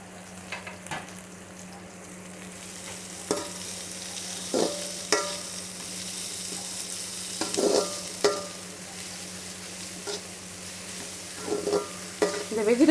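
Cabbage and mixed vegetables for veg fried rice stir-fried in a pan, a steady sizzle under repeated scraping and clattering stirs of a spatula, close and moderately loud, with no talking.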